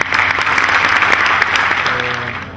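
Steady audience applause fills a seminar hall at a farming case-study talk, dense and sustained at an even level before easing slightly near the end, with no voices over it.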